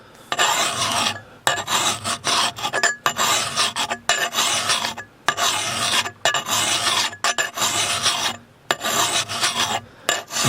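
A metal file rasps repeatedly across the bevel of a Husqvarna forest axe, steady rough strokes in a regular rhythm with brief pauses between them, close and clear with no talking.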